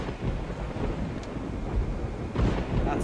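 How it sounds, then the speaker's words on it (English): A thunderstorm in the survival game Project Zomboid rumbles on steadily, with continuous low rain and wind noise and a heavier roll of thunder swelling near the end. "That storm does not want to stop, does it?"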